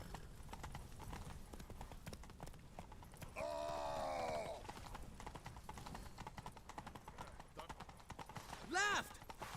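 In The Witcher 3: Wild Hunt, a horse's hooves clip-clop in a rapid, steady gallop throughout, and a neigh or whinny breaks out twice, with game voices and sound effects in the background.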